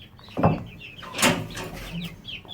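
Young Thai Shamo Aseel chicks, home-bred, making a few scattered clucks and chirps close by, with short bursts separated by quiet gaps.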